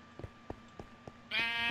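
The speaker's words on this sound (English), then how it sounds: "Why is there a freaking sheep?" Sheep bleating in the video game Minecraft, a few short soft bleats in a row followed by a louder, longer bleat at the end, with no other sound alongside.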